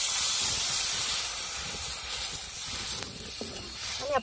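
Water is poured onto a hot tempering of coriander, curry leaves and turmeric for dal. It gives off a loud, steady steaming hiss that slowly fades, with a faint clatter at the end.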